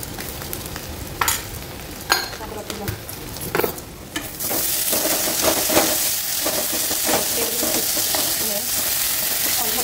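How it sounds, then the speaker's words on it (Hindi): Onions sizzle in hot oil with garlic paste in a home kitchen. A few sharp stirring clacks come first, then a loud, steady frying hiss takes over and stays for the rest, close and continuous, with no talk. "तेल में भाजी होगी"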